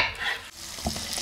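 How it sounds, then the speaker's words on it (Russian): Potatoes frying in a pan give a close, steady sizzle with scraping stirring noises, and no talk over it. "быстренько ее пожарю"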